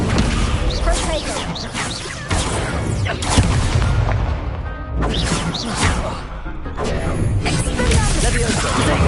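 Loud, dense spell-casting effects and explosions from the Hogwarts Legacy video game, with repeated booming, crashing impacts throughout, mixed with game sounds and voices.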